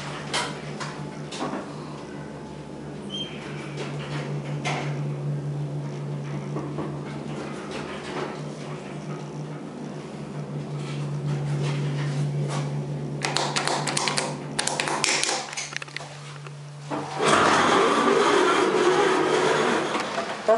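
An OTIS hydraulic elevator with Lexan panels at a Wildwood, NJ motel rides between floors, a steady low hum running under soft ticks and taps, then a louder burst of mechanical noise near the end.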